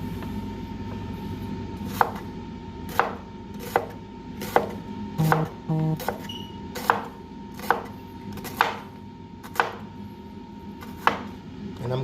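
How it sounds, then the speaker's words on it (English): A knife chops through an onion on a cutting board for homemade burgers, a dozen or so crisp, evenly spaced thuds at a slow rhythm, close up over faint room noise. "so we'll go ahead and chop my onion here."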